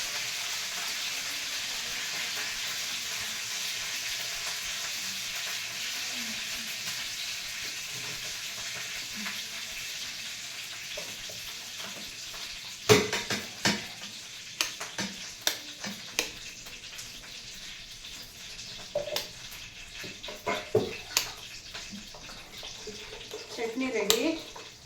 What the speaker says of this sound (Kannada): ಒಗ್ಗರಣೆ ರೆಡಿ ಆಯಿತು. ಈಗ ಶಿಫ್ಟ್ ಮಾಡ್ಕೊಂಡ್ಬಿಡೋಣ ಚಟ್ನಿನ ಇದರಲ್ಲಿ.